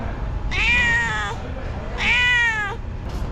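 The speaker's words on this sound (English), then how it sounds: "The cat needs some breakfast too." Two drawn-out, whiny cat meows, each about a second long and separated by a short pause, close and clear over steady low background rumble, indoors during a meal in Madinah, Saudi Arabia.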